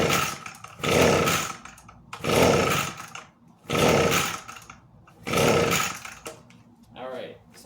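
The small engine of an Echo leaf blower coughs and sputters in roughly regular bursts after each pull of its starter cord. Each burst roars up briefly, then dies away. It sounds close and loud.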